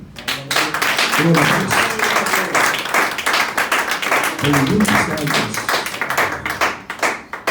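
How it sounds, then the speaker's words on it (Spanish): A church congregation claps for the Lord during a worship service, with rapid, dense clapping running through the whole stretch while a preacher's voice speaks over it at moments. "Dale un aplauso al Señor"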